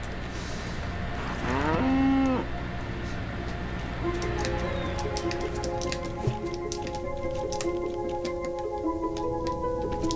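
A cow moos once, loud and drawn out, in the video game Goat Simulator, followed by layered tonal game sounds and scattered clicks.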